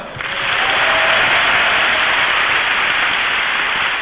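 Applause from the ground-floor audience fills a hall during the closing worship ceremony of a 1999 university student conference, a dense and continuous roar of clapping that swells in quickly and stays loud.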